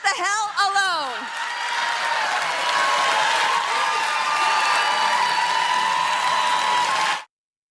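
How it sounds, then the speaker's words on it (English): A crowd breaks into sustained applause and cheering after a political speech. The clapping swells right after a brief voice and holds steady and loud until it cuts off. "there was an awkward pause between her turn for the applause before the applause finally started"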